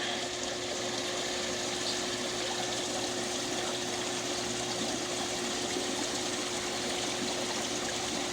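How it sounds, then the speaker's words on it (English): Continuous fizzing, bubbling wash of water from an air diffuser releasing fine micro bubbles into a koi pond, steady and close with a constant low pump hum underneath, no voices. "A lot of fine bubbles."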